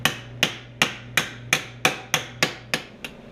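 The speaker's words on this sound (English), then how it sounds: "So I'm just gonna pound away at it. Got all my body hammers out" Steel body hammer striking a sheet metal rust-repair patch on a 1966 Ford Galaxie 500 convertible near the gas filler, nine sharp metallic taps at an even, unhurried rhythm, close and clear with nothing else heard.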